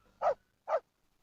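A dog in the Final Fantasy XV video game gives two short, clean barks about half a second apart, with silence around them.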